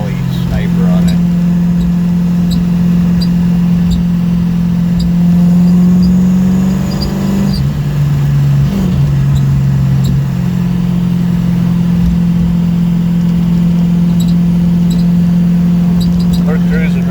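Car engine fitted with an Edelbrock Proflow4 fuel injection system pulling hard in high gear, a steady droning hum that rises and shifts pitch, with someone talking over it throughout.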